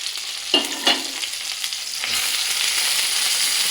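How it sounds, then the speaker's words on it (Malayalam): Tomato chutney sautéing in a hot pan with a steady sizzle, broken early by two sharp scrapes of a spatula, then a fuller, louder frying hiss. "ഒന്ന് വഴച്ചെടുക്കണം ചെറു രീതിയിൽ വഴച്ചെടുക്കണം നല്ലോണം വഴറ്റണം"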